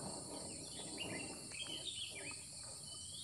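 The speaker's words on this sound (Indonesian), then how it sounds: "dengan suara-suara burung yang bisa kalian dengarkan di rumah kalian masing-masing" At sunrise on Mount Karang in Pandeglang, birds chirp and whistle in short, high calls over a constant hum of insects, a faint, even outdoor backdrop with no voices.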